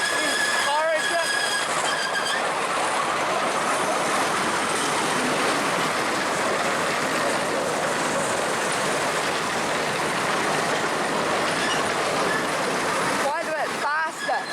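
A small park railway train rolls along the tracks at Kowhai Park, a loud continuous clatter and rumble of wheels with brief squeals, heard up close from on board.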